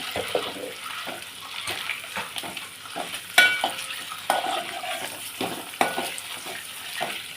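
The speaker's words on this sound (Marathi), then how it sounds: "व्यवस्थित असं हे आपल्याला फ्राय करून घ्यायचे तेलावरती" Village eggs fry in oil for an egg curry, a continuous close sizzle with faint bubbling and occasional clinks and scrapes as they are turned in the pan.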